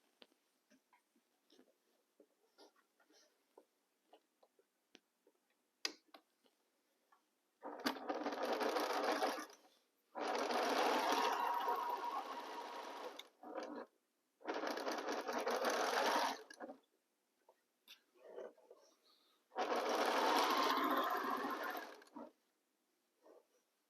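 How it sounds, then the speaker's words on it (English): Sewing machine stitching fabric pieces together in four distinct bursts of several seconds each, separated by quiet gaps with faint clicks and handling sounds, close and fairly quiet overall. "So now we are going to sew these two"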